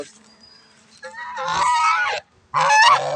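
An angry goose gives two loud, harsh honking bursts up close, the second after a short gap, with faint voices underneath.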